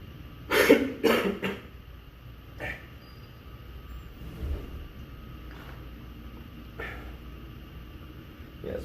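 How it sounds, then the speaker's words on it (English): A man coughs dry and harsh during a gym pull-day workout, three close bursts at the start and then several fainter isolated coughs spread across the rest of the clip, over low background hum. "it's mostly a dry cough"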